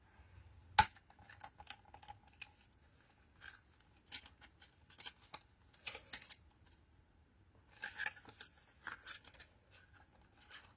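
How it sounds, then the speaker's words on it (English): Card stock being folded along score lines and pressed flat for a pinwheel card, with scattered soft creases, taps and rustles, one sharper snap near the start, close and quiet with no talking. "we're going to fold all of those on the line, and a good press."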